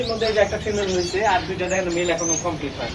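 Gouldian finches in a cage give steady, overlapping chirps and tweets close by, running continuously under a voice talking throughout.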